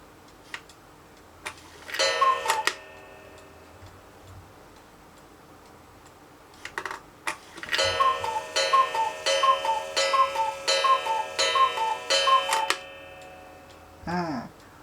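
A German wind-up cuckoo clock runs alone, close and clear: ticking and whirring mechanism sounds give way to bursts of cuckoo calls that repeat in an even rhythm.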